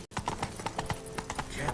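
Roach the horse trots in The Witcher 3, a steady clip-clop of hooves close by, with a faint voice underneath.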